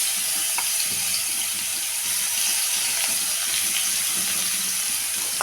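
Chopped onion sizzles in hot oil with cardamom for a green egg curry, a steady continuous frying hiss close up with faint clinks, no talking.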